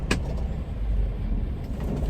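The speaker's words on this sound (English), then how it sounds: "Maybe I need to turn this truck off for a second." A truck engine idles with a steady, close, low rumble and one sharp tick at the start. No one speaks.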